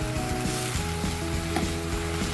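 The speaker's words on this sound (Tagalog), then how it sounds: "Ginisa ko niya." Garlic, onion and aromatics sauté in a hot pan, giving a close, continuous sizzle with soft crackles and small stirring scrapes.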